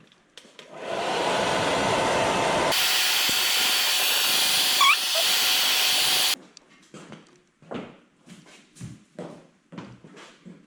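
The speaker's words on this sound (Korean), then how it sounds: "이 상태에서 드라이기로 약간 수분을 더 날린 다음에 중화하겠습니다" A hair dryer blows loudly and steadily for several seconds, then switches off, followed by soft intermittent rustling and small sounds.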